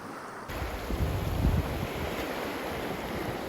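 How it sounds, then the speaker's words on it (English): Rough sea breaking on a rocky, kelp-covered North East shore where cod fishing is under way, a continuous heavy surf roar with a swell of crashing water around the middle and steady wind rumble against the microphone. "Even since I got here, the sea's just backed off a little bit."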